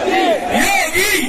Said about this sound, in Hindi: वहाँ यहाँ लाखों लाख की भीड़ हो रही है